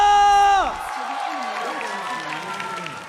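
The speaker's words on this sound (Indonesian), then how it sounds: "MPL Arena, mana tepuk tangannya?" An arena crowd at an MPL Indonesia Season 11 Mobile Legends esports match, Bigetron Alpha versus EVOS Legends, applauds and cheers loudly as a short musical sting cuts off, while a commentator talks over the dense roar.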